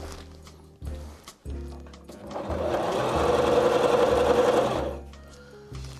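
A sewing machine stitches fabric for a homemade face mask in a loud continuous whirring run of a few seconds, with short bursts of mechanism noise before and after.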